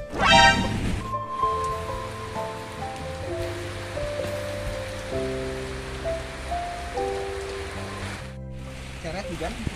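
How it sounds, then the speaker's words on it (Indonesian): Rain falls steadily in a scene from a Sundanese short film during the rainy season, a constant soft hiss that sits under a melodic music score throughout. "Hujan."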